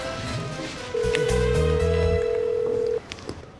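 A phone line tone followed by a quick run of dialing beeps, close and clear, ending abruptly into quiet room noise.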